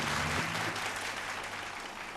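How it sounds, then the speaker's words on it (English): Studio audience on a televised vocal competition show applauds to welcome a guest judge; steady, dense clapping fills the room at moderate level, with a brief tone and faint voice near the start. "Special round of applause."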